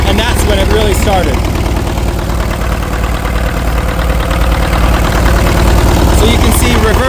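An International TD-6 crawler tractor engine, recently freed after being locked up, runs hard at full throttle with a loud, steady rumble and rapid knocking throb close by throughout.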